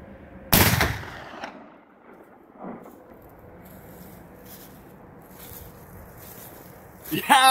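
A CVA Wolf muzzleloader rifle loaded with 100 grains of powder fires one loud, sharp shot that rolls away in a brief echo outdoors, then quieter ambient sound with faint rustling follows.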